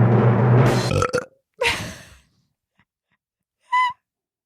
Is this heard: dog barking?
no